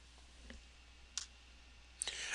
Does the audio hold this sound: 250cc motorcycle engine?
no